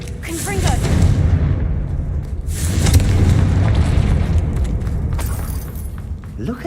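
Confringo fire spell blasts in the video game Hogwarts Legacy, producing loud booming explosions with rumbling, fiery bursts that recur several times and stay dense and heavy throughout.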